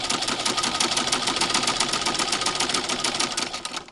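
A Singer 15-88 electric sewing machine runs zigzag stitching at a fast, steady rate, its dense mechanical chatter continuous and close, then easing slightly at the very end.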